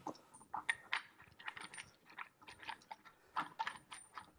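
A ratchet tightens a 3/4 inch bolt to fix a decanter in place: a close run of sharp, quick metallic clicks in irregular bursts, fairly quiet, with no talking.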